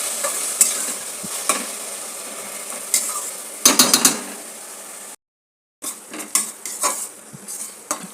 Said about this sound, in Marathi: आता याला आपल्याला फास्ट गॅसवरती गुलाबी रंग येईपर्यंत चांगलं परतून घ्यायचं आहे.